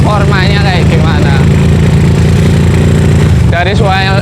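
A two-cylinder motorcycle with a 500 cc engine built from Tiger parts, throttle blipped and held in loud, close, continuous revving with rising and falling pitch, with a voice talking briefly near the end.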